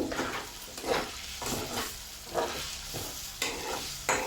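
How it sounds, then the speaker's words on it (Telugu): Potatoes and onions fry in a pan for an aloo tomato curry, a steady sizzle broken by regular stirring scrapes about once a second, close and fairly loud with no talk. "ఇలా మూత పెట్టిన తర్వాత మనకు బంగాళదుంపలు చక్కగా వేగిపోయాయి"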